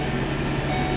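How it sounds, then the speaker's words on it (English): A Ford Transit van's engine runs at a steady, quiet idle right after starting, with a smooth low hum close by and no heavy rumble or talk. "I'm gonna go ahead and start it up just so you can hear the difference between this and the NV."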